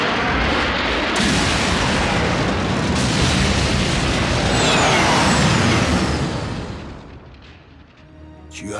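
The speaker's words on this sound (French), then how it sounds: "le bruit d'une explosion de 3 tonnes d'énergon ne te serait pas familier" A massive explosion of three tonnes of energon in a Transformers cartoon, a loud sustained roaring blast with rumbling debris that swells and slowly fades over several seconds, filling the scene without talk.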